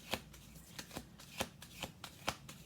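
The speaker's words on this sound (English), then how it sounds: "Okay, 2 more shuffles." Oracle cards being riffle-shuffled in a quiet room, about six crisp papery bursts at a steady, unhurried pace, close and clear with no talking.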